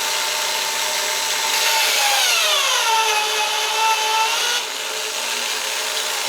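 A power tool spinning 30-06 rifle brass cases to uniform and clean them, a steady close whirring grind whose pitch sags and recovers as the motor bogs slightly, then steadies, with no talking.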